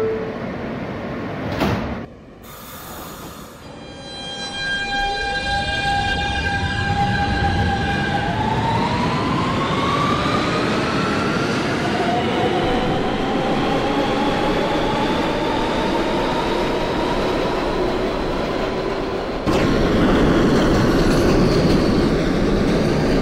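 R160 subway train in the OpenBVE simulator game: door chimes and doors shutting, then a loud electric traction motor whine rising steadily in pitch as the train pulls away, with a continuous rumble of wheels beneath.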